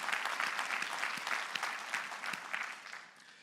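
An audience claps for a production team at a motivational event, a dense burst of many hands that holds steady for a few seconds and then fades out softly.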